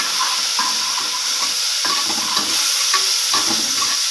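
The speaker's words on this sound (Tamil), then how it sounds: "வெங்காயம் நல்லா செவரட்டும்" Chopped onions fry in a pan for fenugreek rice with a loud, steady sizzle close up, broken by a few stirring scrapes.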